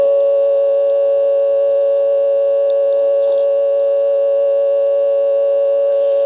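Steady telephone exchange tone from a 1970s independent step-by-step office in Marshfield, Vermont, heard while 99 is dialed for a supervision test; a loud, unbroken electronic hum with stacked harmonics that holds throughout with no voices.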